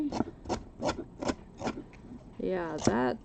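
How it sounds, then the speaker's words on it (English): Steady back-and-forth rasping strokes of hand sanding on wood, about two per second, followed by a person speaking. "by the time I get done sanding this"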